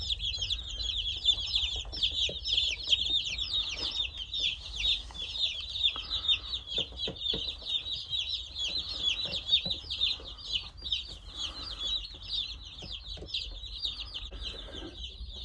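Baby chicks, just hatched two days early, peep constantly inside a brooder, a dense chorus of high chirps running throughout with occasional soft clucks and feed-trough rustles underneath.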